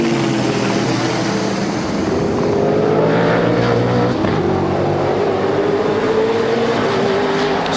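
Touring cars at the 1993 Sandown 500 in Australia roar past in a dense, loud wash of engine noise, one engine note climbing steadily in pitch as the cars race on.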